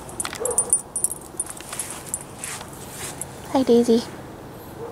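A dog gives a few short, high whimpering yelps close by near the end. Keys or clothing jangle lightly before that, and a person speaks briefly to the dog.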